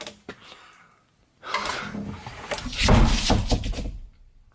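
Heavy thuds and a rumbling bang as a door in an abandoned prison in the UK is pushed and slammed shut, close by, with a scrape before the loudest impact.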